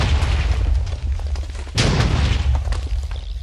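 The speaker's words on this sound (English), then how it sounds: "blows up everything in its path" A weapon explosion in the Advent of Ascension Minecraft mod, a single loud boom cutting through a continuous low rumbling roar, with the rumble carrying on afterward and no speech.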